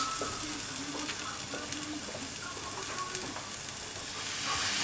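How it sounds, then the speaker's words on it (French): Maple syrup, about two tablespoons, sizzles in a hot pan as it is stirred, giving a steady, fairly faint crackling hiss with light, irregular utensil ticks throughout. "je vais d'abord mettre le sirop d'érable, comme ça je vais bien pouvoir le mélanger"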